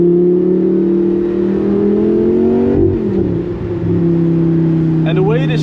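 A Lamborghini Gallardo V10, naturally aspirated and running a straight pipe exhaust, howls loudly as it accelerates, cuts sharply at a gear change and climbs again while a voice exclaims over it.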